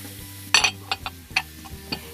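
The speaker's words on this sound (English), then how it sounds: "I'm going to saute some vegetables" Grated carrot and chopped onion being stirred and sautéed in a single pot, with soft scraping spoon strokes and light clinks over a faint low sizzle, in a few brief bursts.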